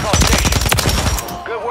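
Light machine gun fire in a video game: a loud, rapid, unbroken burst of close-range automatic shots that cuts off abruptly, leaving a short ringing tail.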